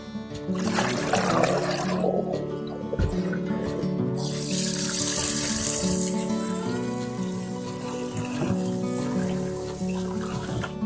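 Tap water runs into a sink while soaked pumpkin pieces are rinsed, a steady splashing rush that swells louder midway and then settles, with faint clatter of handling throughout.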